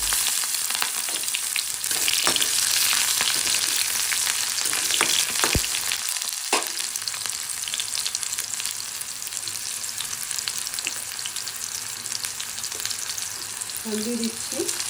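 Tomato and green chilli fry in a pan with a steady, dense sizzle that runs throughout, broken by a few brief clinks of stirring. No one speaks.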